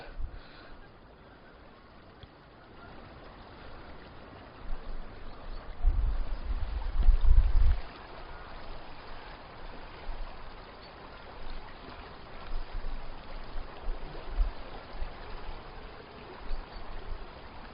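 A river running fuller than usual beside a woodland walk near Leeds, heard as a faint, steady wash with wind buffeting the microphone and a louder rumble in the middle.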